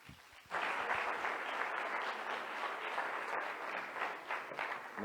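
A church congregation breaks into sustained applause after a quiet moment, the dense clapping from many hands filling the room evenly and continuing for several seconds.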